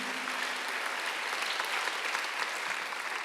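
Steady, dense applause from a church congregation during a Sunday worship service, many hands clapping evenly throughout at a fairly even level with no voices on top.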